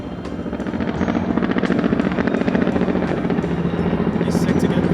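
A helicopter flies over a downtown Los Angeles street, its steady rotor chop loud and close, rising at the start and holding throughout while people talk nearby.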